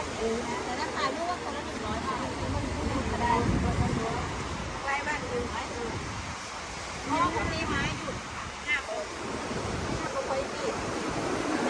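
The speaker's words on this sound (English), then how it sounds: "The Hua Hin Beach." Waves wash steadily onto Hua Hin beach in Thailand in a broad, continuous surf roar mixed with wind rumble on the microphone, while people talk quietly nearby.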